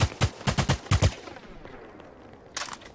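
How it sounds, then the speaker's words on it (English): Video game gunfire in Crypto Shots, a browser first-person shooter: a fast burst of about eight loud, close shots in the first second, then quiet, then a brief second burst near the end. "What are you shooting me for?"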